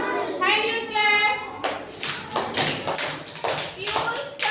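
After a voice, a group of children in a classroom multiplication-table lesson claps hands in several sharp, loud bursts, each a short ragged cluster of claps.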